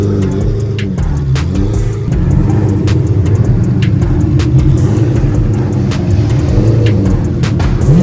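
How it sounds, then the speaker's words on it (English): Lamborghini with an aftermarket exhaust rolls out of a Cars and Coffee meet, its deep engine rumble steady and close, with sharp pops and crackles punctuating the low drone. "Lambos are rolling out, guys. I'm gonna guess that exhaust is not factory either."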